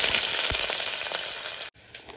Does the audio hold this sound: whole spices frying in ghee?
yes